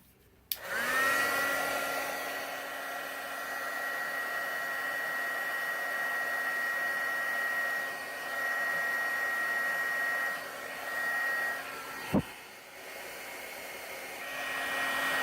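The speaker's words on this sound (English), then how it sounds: "I'll usually just heat the center part of the shrink tubing, and I'll leave the ends alone" A heat gun warms shrink tubing on wiring for a 1929 Edison Model R-4 high-boy radio's power unit: a steady, loud blowing whine starts abruptly and runs unbroken for over ten seconds, with one brief click near the end and no talking.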